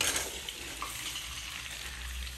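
Cumin seeds fry in hot oil in a pan, a soft, steady crackling hiss that stays fairly quiet and even, with a slight flare at the start and no talking.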